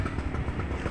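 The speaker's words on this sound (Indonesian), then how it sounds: "Oh, kereta penumpang ternyata." A passenger train rolls past a railway station in a loud, close, continuous rumble with faint rhythmic clatter, all within a brief moment.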